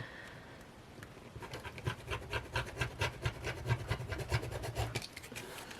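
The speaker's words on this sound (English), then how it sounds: "have to cut this off, and I will use my rotary for that" A rotary cutter slices through the cover of a composition notebook, making a rapid run of rhythmic scraping strokes, close and fairly loud, that build up and continue for several seconds.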